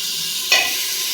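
Crushed ginger, garlic and green chillies sauté in a pan for veg paneer biriyani with a steady close sizzle. A single brief stirring scrape cuts through midway.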